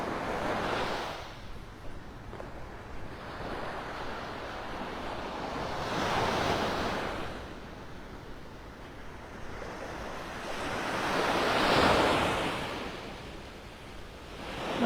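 Surf rolls in on the mile-long Gulf beach at Delnor-Wiggins in North Naples, Florida, with wind noise running throughout and three broad swells of breaking waves about every five to six seconds, with no one speaking.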